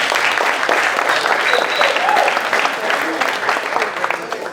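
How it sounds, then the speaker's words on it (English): An audience gives a dense, sustained round of applause welcoming Professor Gibson of Tougaloo College, with many hands clapping steadily throughout. "Y'all give him a round of applause."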